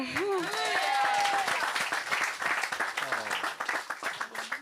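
A church congregation claps and cheers after a baptism service, a dense burst of applause mixed with shouting voices that continues throughout, loud and close, with people calling out over it.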